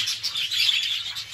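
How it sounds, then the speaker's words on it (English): Young birds in a home aviary with a large seed feeder, chirping in a steady, busy chorus of bright, high overlapping tweets at close range with no talk. "Mainly younger birds in here."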